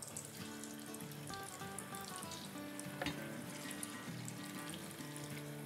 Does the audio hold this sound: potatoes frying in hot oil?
yes